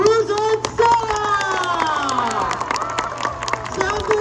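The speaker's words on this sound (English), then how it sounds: "keep that round of applause going for Bennett" Audience applauding and cheering at a sea lion show at the New York Aquarium, steady crowd noise throughout with scattered shouts and voices over the clapping.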